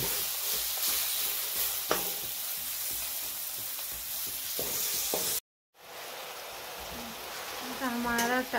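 Chopped tomatoes tipped into karhi simmering in a hot pan, a steady close sizzle and frying hiss with a few stirring clinks, a brief silence, then renewed sizzling as a voice speaks near the end.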